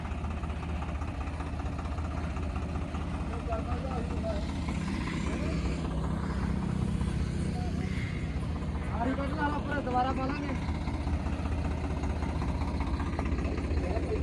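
Tractors straining to pull a stuck trolley loaded with potatoes out of a wet field at night, their engines droning low and continuous with people talking over them.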